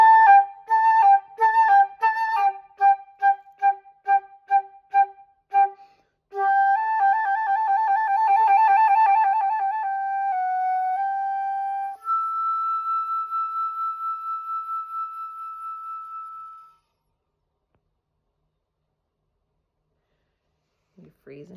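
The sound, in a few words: flute playing Pan (Donjon) from measure 38 to end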